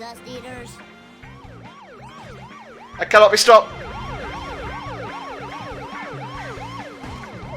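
Wailing police car siren in The Simpsons Hit and Run, a rapid repeating up-and-down whoop that runs loud and steady through most of the stretch, with a brief burst of crashes and a shouted voice line partway in.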